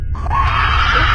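Screaming and shouting carried in from outside in a Hindi animated story, one loud sustained cry that starts abruptly after a brief silence and holds strongly.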